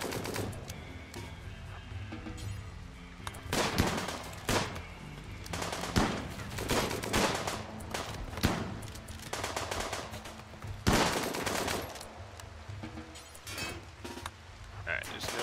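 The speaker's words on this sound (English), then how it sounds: "there's no need to be facing all that gunfire" Rapid bursts of video game gunfire in a tribal survival game, automatic volleys and scattered shots crackling loudly and repeatedly across the whole stretch, with dense layered hits and no pause.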